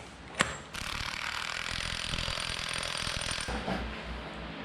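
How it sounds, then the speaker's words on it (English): A Dana 60 pinion nut on a Super Duty axle being tightened with a wrench, a sharp metallic knock followed by about three seconds of rapid, rattling ratchet clicks, close and fairly loud, then a quieter tail; no talking. "Tighten them down and torque it to about 200 pound-feet."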